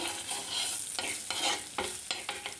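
Ginger frying in a pan, being stirred, with a steady sizzle broken by repeated scraping strokes of a spoon, close and moderately loud, with no voices.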